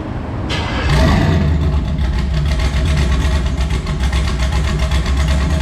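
Chevrolet Colorado engine with a newly fitted turbo cranks and fires up for the first time, then settles into a loud, steady rumbling idle close by.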